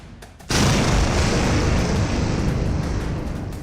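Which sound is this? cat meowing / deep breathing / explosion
explosion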